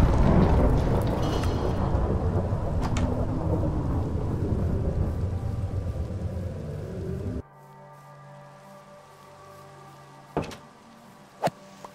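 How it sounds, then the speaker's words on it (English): A video game thunderstorm: a lightning strike brings a loud, rolling thunder rumble with rain-like hiss that cuts off abruptly, leaving a quiet hum broken by a few sharp clicks. "He struck my house with lightning."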